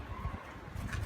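Decorative pigeons coo in soft, low, rounded bursts that repeat at an unhurried rhythm, fairly close and steady against a quiet background.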